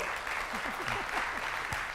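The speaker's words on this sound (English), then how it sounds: "So give a round of applause for Katrin and Klaus." Audience applause for two speakers at a UI5con tech conference session, a faint steady patter of clapping from a modest crowd over about two seconds, with a voice briefly audible.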